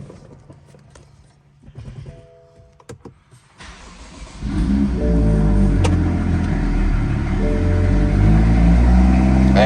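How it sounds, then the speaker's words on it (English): After a few quiet clicks, a wrecked BMW M2's engine cranks and starts, then settles into a loud, deep, steady idle rumble. "let's go ahead and crank this car up and see how she runs"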